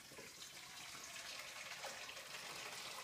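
Boiled water is poured from a jug into a big bowl, a faint, steady splashing stream that runs evenly from start to finish.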